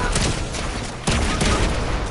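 Rapid gunfire in the video game Fortnite, a loud, dense barrage of overlapping shots that runs the whole time with a brief dip in the middle before the firing picks up again.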